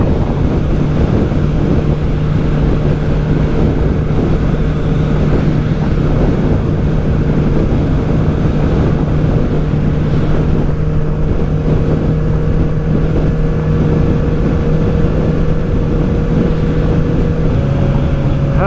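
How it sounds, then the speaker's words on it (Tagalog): Strong wind roars steadily over a Honda CB650R ride on an expressway, a loud continuous rush with a steady engine drone beneath it and no voices. "Sobrang lakas ng hangin."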